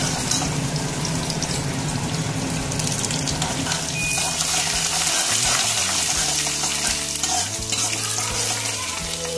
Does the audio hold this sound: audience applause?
no